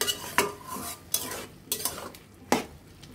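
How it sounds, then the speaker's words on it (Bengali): Ingredients for a pumpkin seed bharta stirred in a pan, with several sharp scrapes and clinks of a utensil against the metal over a faint sizzle, close by and with no voices. "এখন আমরা সবটি উপকরণ একসাথে ভাজা ভাজা করে নিতে হবে।"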